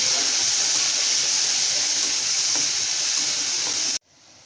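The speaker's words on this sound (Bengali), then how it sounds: "এগুলোকে ভেজে নেব" Shrimp fry in a pan with green chillies, a loud, even hiss of oil that cuts off abruptly near the end, leaving a faint background.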